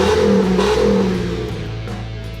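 A jacked-up Chevy Colorado truck engine revs loudly up and down in two strong pulses, then settles into a steady lower rumble, heard close with no talking.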